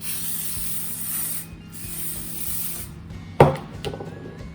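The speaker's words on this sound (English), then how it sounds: "you can spray some vegetable oil on it" A steady hissing spray of vegetable oil into a cake tin runs for a few seconds with a short pause, then stops, followed by a sharp clatter and some quiet handling noises.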